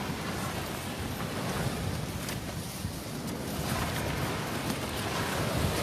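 Strong wind buffets the microphone at the seashore during a fishing session, a steady loud roar of broadband noise mixed with surf, with no speech.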